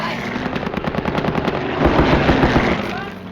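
Machine gun fire from an A-1 attack aircraft on a strafing run, a loud sustained rattle of rapid bursts that swells heavier partway through, with no voices.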